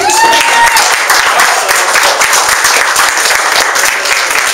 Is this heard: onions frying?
no